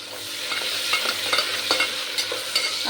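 Coriander stalks frying in hot oil for a vegetable pulao, a steady crackling sizzle with light stirring scrapes at irregular intervals, close and moderately loud, no voices.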